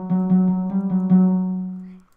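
Untuned Minecraft note blocks play the Mario death theme in a quick run of about six plucked notes at nearly the same pitch, ending in a fading ring, bright and upfront.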